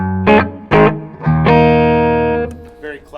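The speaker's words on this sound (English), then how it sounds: "There's also reverb in this amp." Electric guitar through a PRS Super Dallas 100-watt amp with its reverb on, a few plucked notes then a sustained chord ringing and decaying with a lingering reverb tail.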